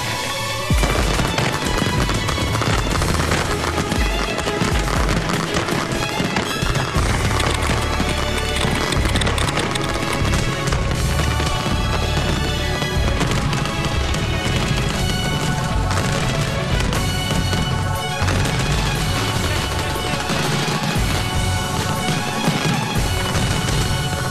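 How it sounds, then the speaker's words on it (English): Fireworks finale from GFO Pyro of Canada, about 665 shots packed into an eight-second burst, fired at a pyrotechnics competition at The Falls; a loud, dense, continuous barrage of rapid blasts and crackles that fills the whole stretch without letup. "Eric's finale features hundreds of shots in an 8-second burst."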